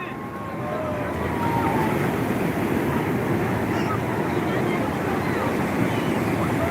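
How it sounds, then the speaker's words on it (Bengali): Sea waves roll at night in a steady, broad wash of surf, constant and fairly loud, with wind buffeting the microphone. "ঢেউটা দেখো ঢেউটা দেখো তোমরা"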